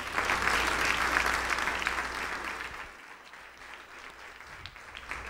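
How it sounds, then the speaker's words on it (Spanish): A church congregation at a Sunday service breaks into sustained, dense applause that starts loud and full, then gradually thins and fades while a few claps continue. "¿Qué te parece si le damos un fuerte aplauso a nuestro Señor Jesús?"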